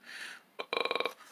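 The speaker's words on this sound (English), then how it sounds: "Nice burp. Not as weak as mine." A short, throaty burp with a rapid pulsing rattle, close by, after a brief breathy sound.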